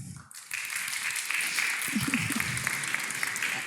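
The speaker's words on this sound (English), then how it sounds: "we can really applaud and congratulate you" Audience applause in a chamber hall after a project presentation, dense steady clapping that starts abruptly and continues evenly throughout.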